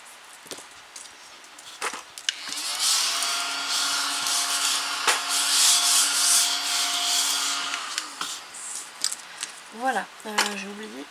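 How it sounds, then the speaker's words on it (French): An eraser scrubs away pencil marks on a paper frame for a crossed-frames craft. It makes a steady, close rasping rub lasting several seconds, with a few light knocks before and after and a brief voice at the end. "on efface bien nos marques"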